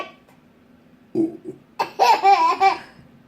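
A young boy's burps come in short low bursts, followed by a louder, voiced burst with a laughing, gurgling quality, close to the microphone.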